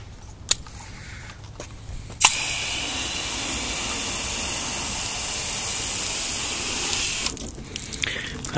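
Water sheets from a hose nozzle onto a car during a carnauba wax comparison, a steady, close broadband rush that starts abruptly and runs for about five seconds before cutting off, with a few small clicks around it.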